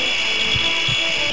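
A surgical saw in the Surgeon Simulator Anniversary Edition game on PS4, a steady loud high whine that holds without a break and sits close.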